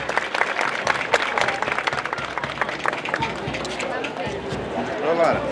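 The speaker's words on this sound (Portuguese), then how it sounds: "Pedimos uma grande salva de palmas para os alunos da Escola Municipal Domingos Soriano de Souza." Crowd applause at a Sete de Setembro school parade in Floresta, Pernambuco, clapping rising in bursts from a street crowd, with an announcer's voice and crowd noise mixed in and a few sharp knocks along the way.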